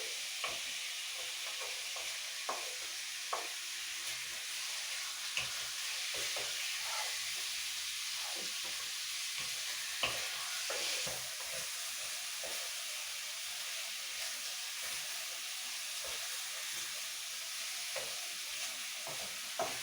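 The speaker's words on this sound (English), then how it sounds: "Now the thing with the wok, guys, is to keep it moving fast or it will just stick." Pork and mushroom stir-fry in a wok, a constant bright sizzle and steam hiss with quick rhythmic scrapes and taps of a spatula moving the food fast, close and steady throughout.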